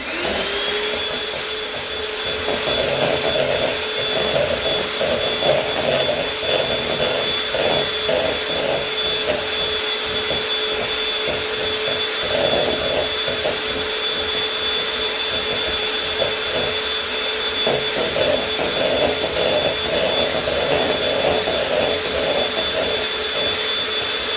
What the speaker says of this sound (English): So I'm just gonna keep blending.